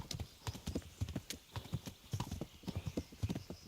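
Horse hooves in the medieval video game Kingdom Come Deliverance clatter in a steady, rapid clip-clop rhythm as the horse runs, close and continuous throughout, with no talking.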